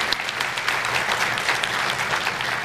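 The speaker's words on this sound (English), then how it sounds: "So please give them an applause" Audience at an annual interfaith dinner breaks into steady, dense applause, many hands clapping together at full volume throughout with no voices on top.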